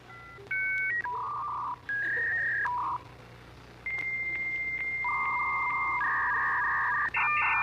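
A dial-up internet modem connects with a run of telephone dialing tones, then a series of steady beeps and shifting electronic tones that step between pitches.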